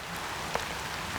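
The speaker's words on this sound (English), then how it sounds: "although it's raining and I'm getting wet" Rain falling outdoors around a manor, a steady, even hiss of drops with one brief sharper tap partway through, and no voices.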